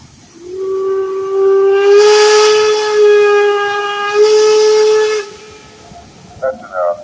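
A steam traction engine whistle at a parade blows one long, loud, steady tone lasting about four and a half seconds, with a brief dip partway through. A couple of short faint sounds follow after it stops.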